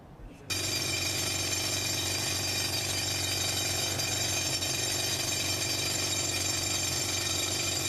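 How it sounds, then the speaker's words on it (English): A rock drill grinds slowly through hard stone during jade prospecting in China, a loud continuous mechanical drone with steady rumble that starts abruptly after a brief quiet moment and holds unchanged throughout. "The drill makes frustratingly slow progress through the hard rock."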